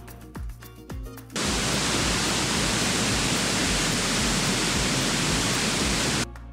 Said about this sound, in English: and then a third waterfall just behind there